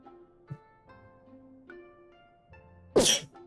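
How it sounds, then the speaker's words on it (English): A single sharp, loud sneeze bursts out near the end over quiet background music with a few soft taps. "I had to sneeze."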